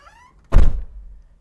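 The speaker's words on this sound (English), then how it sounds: "the thud from this big heavy door is just so good" A big, heavy door on an old car swings shut with a single deep, solid thud that rings briefly before dying away.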